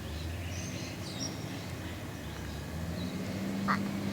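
A duck quacks faintly a few times in the distance, outdoors beside a road where a rubbish truck is about, over a steady low rumble of traffic and background noise.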